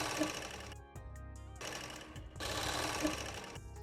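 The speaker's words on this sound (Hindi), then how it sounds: "अब यहाँ पर मैं पैंट का बॉटम स्टिच कर रही हूँ।" Sewing machine stitching the folded bottom hem of a child's plazo pant, two fast rattling bursts separated by a short pause, close and fairly quiet.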